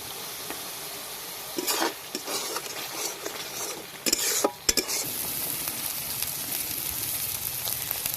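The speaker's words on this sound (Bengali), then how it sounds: "মশলা খুব ভালো করে কষে নিয়েছি" Spice masala for Bengali egg malai curry being stir-fried in a pan, a steady soft sizzle with several louder scraping stirs of a spatula, fairly close and quiet, no voices.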